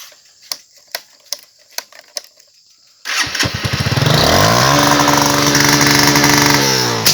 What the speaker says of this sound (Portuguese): O teste aqui do CDI Multiscan na moto do nosso amigo Desson.